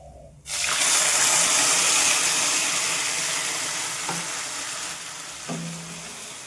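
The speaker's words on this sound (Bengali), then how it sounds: "এবারে দিয়ে দিচ্ছি আদা লঙ্কার পেস্ট।" Ginger-chilli paste sizzles loudly in a hot pan for a vegetarian pointed-gourd (potol) dish, a steady close frying hiss with a couple of soft stirring scrapes near the end.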